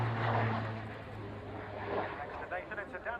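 A Tucano turboprop aircraft coming in to land at an air show airfield, its engine drone loud at first and then easing off, with a low steady hum and talk running over it throughout.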